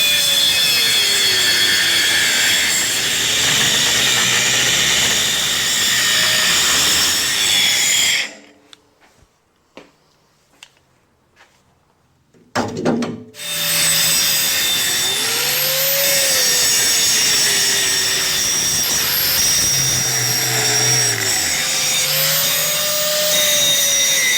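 Angle grinder running hard on a 1975 Ford 550 backhoe outdoors, a loud continuous whine that cuts out for a few seconds midway and then resumes at full intensity.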